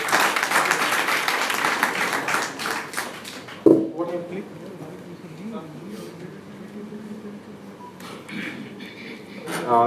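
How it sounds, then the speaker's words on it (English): Audience applause at an alumni meet, fairly loud in the opening seconds, then dropping off sharply after a bump, leaving quieter room sound and voices, with a brief swell of clapping near the end. "Let's give a huge round of applause for the sporting spirit."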